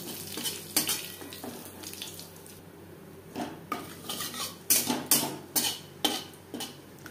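Whole cumin seeds fry in the oil left from frying fish for a curry, a light sizzle under bursts of metal utensil clatter against the pan in uneven clusters, close by and without speech.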